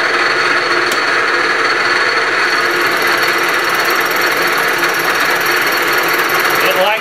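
A Bridgeport mill cuts a fixture plate with a Niagara cutter at a shallow depth, giving a loud, continuous grinding whine that holds steady throughout. A voice may be faintly mixed in.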